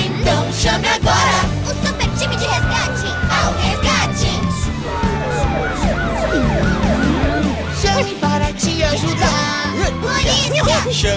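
A cartoon ambulance siren wails in rising and falling sweeps within a bright children's rescue-team song, mixed with music, shouting children's voices and singing.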